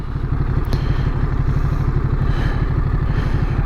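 A 2023 Ducati Monster motorcycle engine running with a loud, rapid throbbing pulse, close and steady throughout, with a faint tick near the start and no talk.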